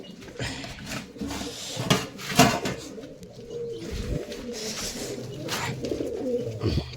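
Pigeons in a pigeon loft coo repeatedly, close and fairly loud, with soft clattering and wing or cage knocks mixed in.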